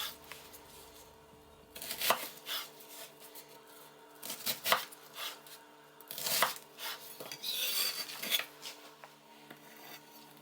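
A knife roughly chopping onions on a cutting board for sweet and sour pork, with irregular bursts of several crisp cuts at steady close range and short pauses between them.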